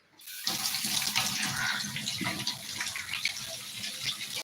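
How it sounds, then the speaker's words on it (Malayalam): Tap water gushes steadily into a sink while mackerel is rinsed under the pipe, a loud, continuous splashing that starts abruptly and runs on with small irregular spatters. "നമുക്ക് ഇതാ പൈപ്പിൽ കാണിച്ചിട്ട് കഴിവാം"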